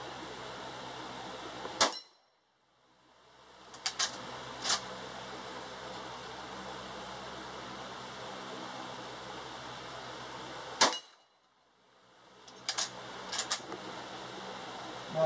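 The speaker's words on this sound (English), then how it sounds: "Shooting at the 23-inch plate, or 23-yard, 6-inch plate first." Rossi 92 lever-action rifle chambered in .38 Special firing at a 6-inch steel plate 23 yards away, two loud sharp shots several seconds apart, each followed by a short metallic ring from the hit plate, with steady outdoor background between.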